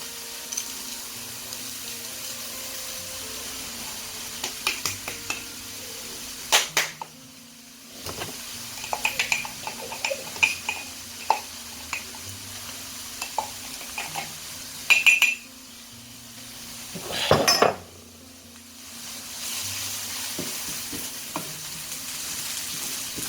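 Rice pours into a hot pan for mushroom risotto and is stirred with clattering scrapes of a utensil, over steady sizzling frying in the background.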